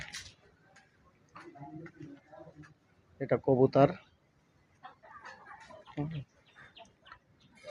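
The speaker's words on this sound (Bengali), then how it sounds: "এখানে বিভিন্ন জাতের মুরগি আছে" Chickens of various breeds cluck at a farm that also keeps pigeons, with a short, loud burst of clucking in the middle while someone talks throughout.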